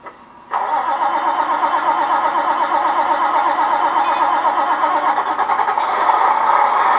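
A Beier SFR-1 sound module in a Tamiya 1/14 Globe Liner truck plays an engine-start effect: a short crank after a quiet moment, then a steady, loud idling rumble that holds close and even until the end.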